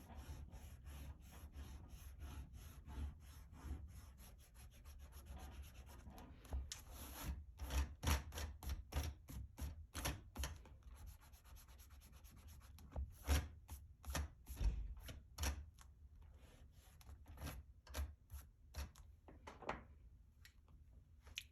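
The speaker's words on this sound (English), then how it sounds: "We can go ahead and erase our grid." An eraser rubs pencil grid lines off paper on a kawaii milk cup drawing, a long run of quick back-and-forth scrubbing strokes, close and steady, growing brisker and more clipped in the second half, with no talking.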